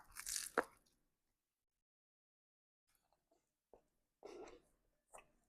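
A crispy toasted beef wrap with ketchup, crisped in a toaster, is bitten with a loud, close crunch, followed after a pause by quieter chewing and a few soft crunches.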